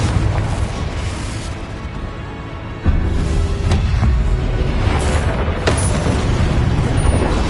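A Confringo fire spell explodes in the video game Hogwarts Legacy, a loud booming burst followed by sustained roaring rumble with further sharp impacts, near and dense.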